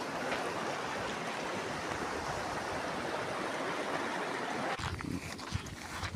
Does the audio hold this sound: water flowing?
yes